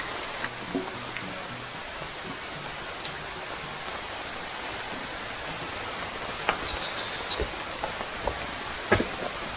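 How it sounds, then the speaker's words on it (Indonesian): Steady hiss of rain falling at a riverside fishing camp in Indonesia, with occasional sharper drips and taps standing out against the constant patter; no voices. "Lihat nih hujan"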